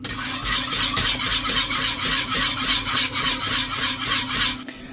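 A utensil stirring béchamel sauce in a pan, a steady rhythmic scraping and rubbing repeated in quick strokes for several seconds, close and clear, stopping abruptly at the end.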